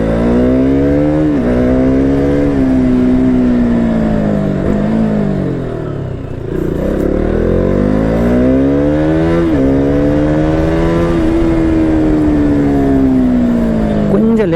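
A KTM Duke 200 motorcycle ridden fast, its engine loud and close with rising and falling revs through gear changes and a brief dip mid-ride, heavy wind buffeting underneath.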